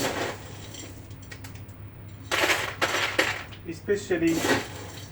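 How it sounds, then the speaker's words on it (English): Stones dropped into the bottom of a plant pot for drainage, giving hard clattering and rattling clusters after a quieter start, close and bright, with a few sharp clinks near the end. "I'm going to put some stones here in the pot, in the bottom of the pot"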